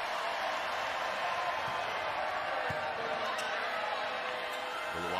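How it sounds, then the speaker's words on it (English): An arena crowd at a Texas vs. SMU NCAA volleyball second-round match makes a steady, boisterous roar of voices and cheering throughout, dense and continuous with faint thumps beneath. "Crowd starting to get a little boisterous here early on."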